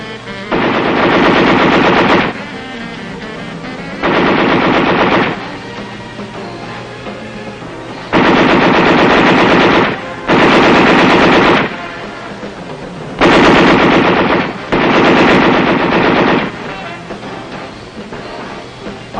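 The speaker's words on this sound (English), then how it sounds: "There's one more weapon I want to tell you about, Dad. The 50 caliber machine gun." A .50 caliber machine gun fires on a range in long, loud sustained bursts, about six of them, separated by short pauses filled with lower rumbling background noise and no voices.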